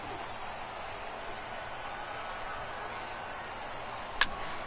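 A stadium crowd of about 24,000 baseball fans roars steadily as they rise to their feet in MLB The Show 18, a dense, even wash of cheering with a brief sharp spike near the end.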